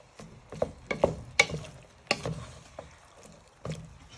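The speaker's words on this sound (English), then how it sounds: "And you want to give it a bit of stir so they get flavour into your meat, your steak and kidneys." Steak and kidney being stirred in a cooking pan, giving soft, irregular scrapes and light sizzling taps spaced across a few seconds, close and fairly quiet.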